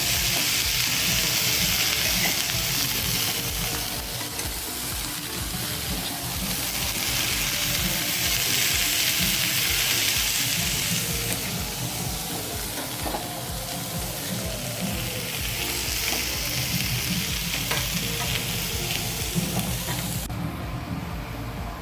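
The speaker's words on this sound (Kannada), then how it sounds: "ಸ್ವಲ್ಪ ಎಣ್ಣೆ ಹಾಕಿದ್ದೀವಿ, ಅದಕ್ಕೇ ಇದು ಎಲೆಕೋಸು ಫ್ರೈ ಮಾಡ್ತಾ" Cabbage fries in a little oil, crackling and sizzling steadily up close with occasional stirring scrapes, no one speaking.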